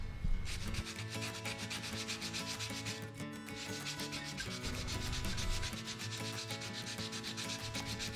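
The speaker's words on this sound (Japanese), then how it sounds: "サンドペーパー240番でパテを削っていきます。" Putty is sanded by hand with 240-grit sandpaper in quick, steady back-and-forth rubbing strokes, close and fairly soft, continuing without pause and with no talking.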